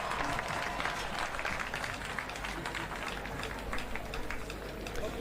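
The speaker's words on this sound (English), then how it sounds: "Let us applaud the newest doctors in town." Steady applause fills a university graduation ceremony hall as new doctors of philosophy are honoured, with dense clapping from a large audience continuing throughout, and faint murmur mixed in.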